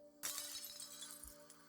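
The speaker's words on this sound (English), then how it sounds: "the shattering of the glass sound occurred before any of the detergent actually hit the ground" Glass shattering in the game Infinity Nikki, one sudden bright crash followed by a short scatter of tinkling fragments, quiet overall, over a soft tonal background hum.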